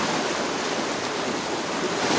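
Waterfall rushing among dark rocks, a steady, dense broadband roar of falling water that stays constant and fairly loud throughout, with no voices over it.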